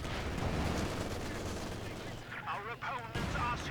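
Machine gun fire and explosions in the video game Company of Heroes 2, a dense continuous barrage of battle noise throughout, with a voice speaking over it near the end.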